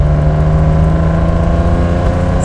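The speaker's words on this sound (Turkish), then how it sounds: "Sıralı altının yine sesi geliyor." Inline-six engine of a Mercedes-Benz 280 SL Pagode, loud and close, holding a steady rev with a continuous low drone and no talk over it.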